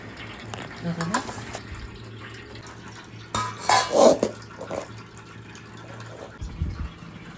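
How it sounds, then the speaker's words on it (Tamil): Basmati rice washed in a metal pot with water, close clinks and scrapes of the pot and grains swishing, louder bursts of sloshing midway, over a low steady hum. "ஒரு கப்பு பாஸ்மதி அரிசி எடுத்துருக்கேன். அதை நல்லா கழுவி இறுத்து எடுத்துக்கலாம்."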